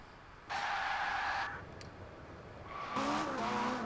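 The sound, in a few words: Ferrari 458 engine in Toyota GT86, Forza Horizon video game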